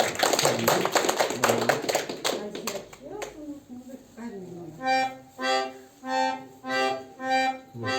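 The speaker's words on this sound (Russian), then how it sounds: "Похлопаем." An audience claps together at a children's class concert, a dense patter of hands under a speaking voice, which then gives way to rhythmic swelling music notes.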